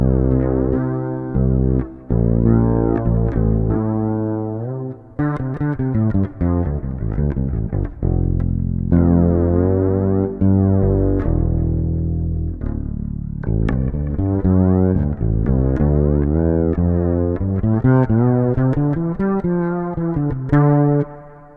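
Bass guitar played through a Ghost pedal, its effects blended with the raw bass tone: sustained, harmonically rich notes and chords ringing one after another in a continuous, loud phrase with brief gaps.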